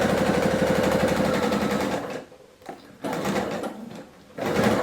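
Sewing machine stitching quilt fabric pieces for a half log cabin block, a close, steady rapid motor whir that runs continuously, then pauses twice briefly between seams before restarting.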